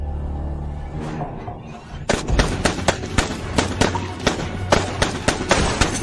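After a quiet start, sharp gunshots from high-tech weapons ring out in quick irregular bursts, loud and close, cracking one after another without any voices.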